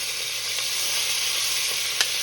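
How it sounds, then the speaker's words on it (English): Beef searing in a pot for an old-school beef stew, a steady close hiss of sizzling fat with a faint clink near the end, no voices. "I like to sear my beef off first"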